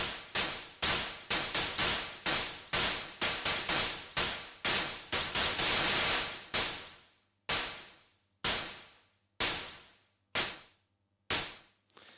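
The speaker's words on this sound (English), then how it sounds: "And if I now turn on the white noise," Gated white noise layered with a snare in a mix, sharp bursts of hissing noise that cut off abruptly, starting in a quick irregular pattern and then settling into slower, evenly spaced hits with decaying tails.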